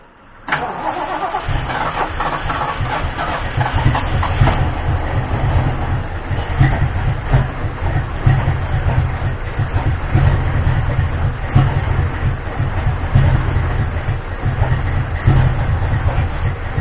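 A Ford 351M/400 V8 cranks briefly, then catches and settles into a loud, rumbling, somewhat uneven idle that runs on steadily and close by.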